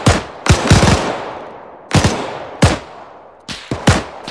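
Machine gun fire in the military shooter Arma 3, loud close bursts and single heavy shots separated by short pauses, each followed by a long ringing echo tail.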